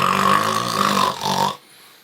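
A voice imitates the loud, rumbling snore of a dog from a children's story, one long throaty snore lasting about a second and a half before trailing off into near silence.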